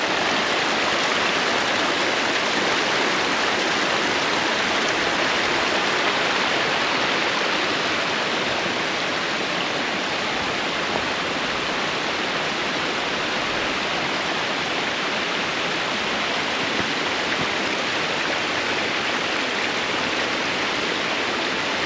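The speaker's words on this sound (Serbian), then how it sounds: "Voda i dalje teče." Water gushing out of a hillside from an unexplained spring, a steady, loud broadband rush like a stream or small waterfall, continuous and close with no voices over it.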